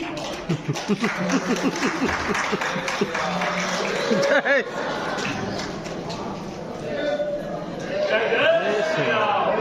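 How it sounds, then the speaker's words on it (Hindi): Applause from an audience sending off saints at a Hindu religious gathering, a dense, steady clatter of many hands mixed with crowd chatter, continuing for the whole stretch. "तालियां बजाकर संतों को विदा कर दीजिए।"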